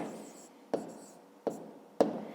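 A pen or chalk taps and scratches out numbers by hand in a quiet room, three distinct knocks of the tip at irregular intervals with faint strokes between them.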